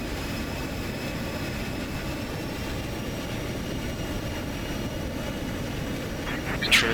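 Fighter jets of the 93rd Fighter Squadron fly in close echelon formation near Ramstein, heard from inside the cockpit as a steady, loud engine and airflow roar that stays even the whole time.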